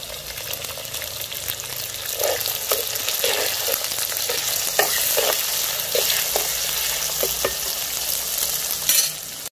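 Asafoetida tempering in hot oil for a village-style chutney, a loud, continuous crackling sizzle with repeated sharp pops and spatters, no voices.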